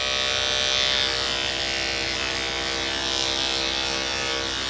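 Electric hair clippers fitted with a detachable blade cutting hair, smoothing a taper over the back of the head; a steady, close, loud buzzing hum runs without a break, with no talk.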